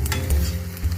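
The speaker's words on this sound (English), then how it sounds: "Now I'm mixing all of this." A brief, close stir of pink sauce pasta in a pan: a thick, scraping swirl over a soft sizzle, lasting only a moment.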